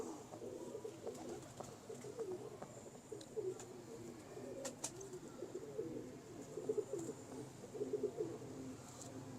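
Soft, repeated pigeon coos from a tame domestic bird, a low burbling murmur running steadily through the stretch at moderate distance, with a few sharper clicks and rustles mixed in.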